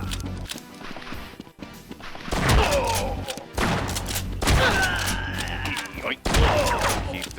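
Shotgun blasts in a fast Doom-style shooter, several sharp booming shots in quick bursts with crashing impacts over game noise.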